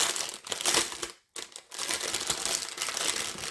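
A small plastic packet holding embroidery thread crinkles loudly up close as it is torn and pulled open, with a brief silent gap partway through before the rustling continues.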